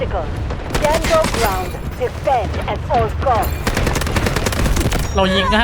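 Rapid automatic bursts from an SMG-45 in the video game Delta Force, loud and close, with dense repeating shots in several strings, a voice talking over the fire.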